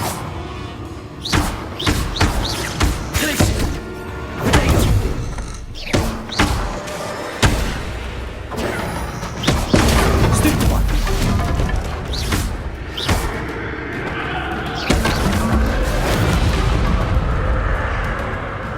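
Bombarda spell blasts in Hogwarts Legacy, a series of loud sharp booming impacts mixed with other combat spell effects, irregular and repeated over a noisy fight.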